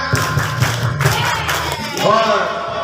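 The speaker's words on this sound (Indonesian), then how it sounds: "tepuk semangat." A group of students at an Islamic boarding school does a rhythmic spirit clap, with loud steady clapping in unison that gives way to voices near the end.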